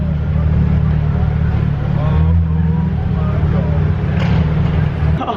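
A rare Pagani Zonda F Roadster supercar runs with a steady, deep engine drone that holds loud and close throughout, with faint voices in the background.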